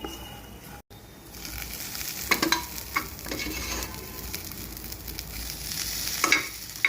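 Masala with dried chilli frying in a pan for a beef and coconut fry, a steady close sizzle with repeated stirring scrapes and clacks of the spatula, growing busier toward the end, with no talking.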